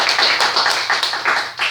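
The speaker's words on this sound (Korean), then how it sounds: "박수!" Applause in a church service after the choir's praise: a short burst of dense clapping from a congregation, close and fairly loud, lasting under two seconds.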